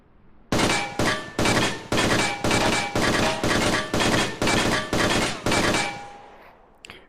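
An MP40 submachine gun fires about ten sharp, loud shots in an evenly spaced rhythm outdoors, each blast ringing briefly before the next, followed by a fading echo and a small clink.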